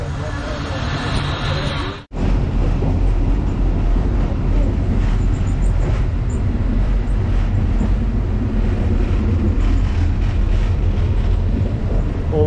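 A passenger train rolls along in Pakistan at dusk, heard from on board as a loud, steady rumble and rattle. A brief sharp dropout comes early on, then the noise stays constant to the end.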